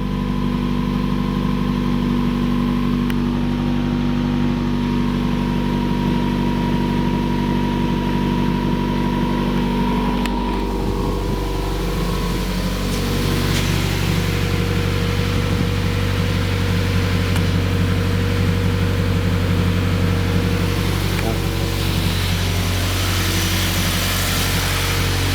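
A 2015 Subaru WRX fitted with a Grimmspeed J-pipe idles steadily and loudly for the whole stretch, a continuous low engine drone with a slight shift in tone midway and no voices.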